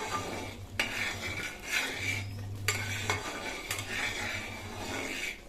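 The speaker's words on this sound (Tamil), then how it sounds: "நல்லா கிளறிக்கிட்டே இருக்கணும்" A spoon scrapes and stirs bread halwa in a metal pan, making repeated rasping strokes and occasional clinks at close range, with a low hum underneath and no talking.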